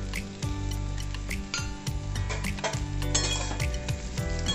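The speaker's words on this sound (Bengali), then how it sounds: "সবজি মশলা দিয়ে আমি ভালোভাবে এটা নাড়াচাড়া করে নেব।" Spatula scrapes and clinks against a kadai wok as spiced kakrol (spiny gourd) and vegetable masala are stirred, repeated metallic knocks and rubbing over a light sizzle, close and moderately loud, without speech.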